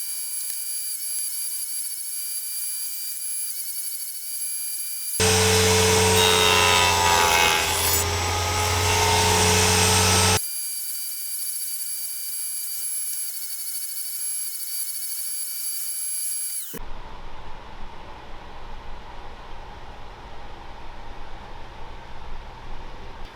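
Half-lap joints are cut in wood for shaker doors with a power tool. A loud, steady grinding burst rises over a high electrical whine, then a quieter spell of rough rasping and scraping follows, with no talking.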